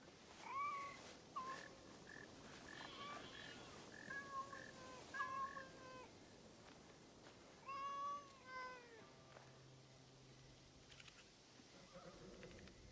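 A cat meowing repeatedly inside the video game Assassin's Creed Shadows, several short clear mews in quick clusters over a quiet background, then a longer gap before a few fainter calls.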